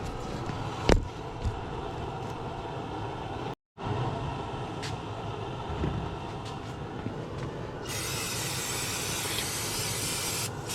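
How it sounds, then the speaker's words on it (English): Carb cleaner sprayed into the fuel tank of an 84-year-old Maytag Twin 72 engine, a hissing spray with brief handling clunks, ending in a louder sustained spray burst, close up. "we're going to clean this out with a little bit of carb cleaner, brake cleaner"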